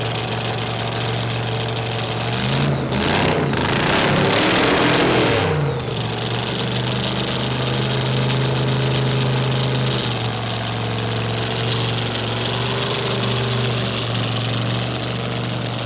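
A drag racing dragster engine at a track runs steady and loud through the whole stretch, swelling into a harsher, heavier roar for a few seconds early on before settling back to a constant idle-like drone.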